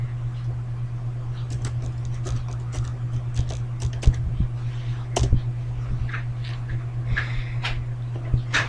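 Password typed on a computer keyboard at a Windows Vista login, a run of quick, light key clicks in irregular bursts over a steady low hum.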